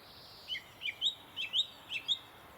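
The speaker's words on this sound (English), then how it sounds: "And another song thrush behind me now." A song thrush sings outdoors in early spring countryside, delivering clear, high phrases in quick repeated pairs, moderately near against a quiet background.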